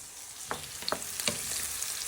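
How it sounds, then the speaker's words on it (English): Onions turning golden fry in a pot, a soft, fairly quiet sizzle with a few sharp stirring clicks and scrapes scattered through the short stretch, with no voices. "As you can see, our onions are nicely getting golden and brown."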